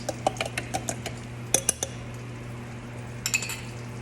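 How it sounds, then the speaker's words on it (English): A fork clinks and taps against a bowl while mixing French toast batter, a series of light, quick metallic chinks in uneven bursts over a low steady hum. "we're going to go ahead and take our fork. We're going to mix that up right nice"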